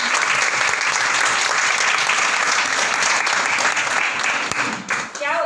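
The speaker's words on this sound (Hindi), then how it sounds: "आज जितने भी पर्सन्स यहाँ पर बैठे हैं इन सब के लिए जोरदार तालियां" Audience at a meeting claps loudly and steadily for several seconds, a dense close applause that tapers off at the end as a voice begins speaking.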